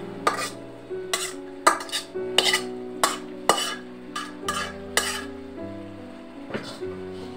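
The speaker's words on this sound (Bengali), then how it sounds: "এখন আমরা নেড়ে চেড়ে নেব।" Utensil stirring fried potato and eggplant into a tangra fish curry in a pot, with a series of sharp clinks and scrapes at a steady, uneven rhythm, close and fairly loud, with no talking.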